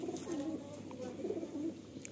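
A Madrasi pigeon held in the hand at a loft in Sonarpur gives soft, low, throaty coos in a few short phrases, faint and close.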